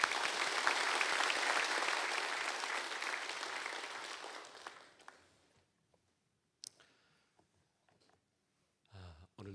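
A church congregation applauds at a Korean revival service, clapping loudly and densely at first, then fading out over several seconds, followed by scattered small clicks and a brief burst of noise at the end.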